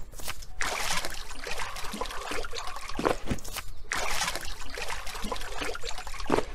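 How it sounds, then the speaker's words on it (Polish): Water pouring into a bottle as it is refilled in the survival game Undying, a steady trickling stream that runs near and clear across the whole stretch with brief breaks. "Weźmy sobie więcej wody."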